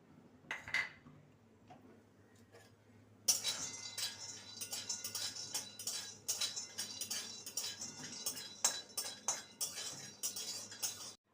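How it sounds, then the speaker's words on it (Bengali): Peanuts dry roast in a pan with no oil, heard as a few quiet knocks followed by a long run of rattling, clinking scrapes as they are stirred and tossed against the metal, close and fairly faint. "প্রথমে শুকনো খোলায় কতগুলো চিনে বাদাম নিয়েছি ভেজে নেবো"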